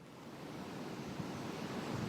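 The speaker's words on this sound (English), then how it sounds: "it is very windy. It's kind of blowing that sand around, too." Strong wind sweeps across the beach at Buxton, North Carolina, a loud continuous broadband roar with surf mixed in, blowing steadily and buffeting the microphone, no voices heard.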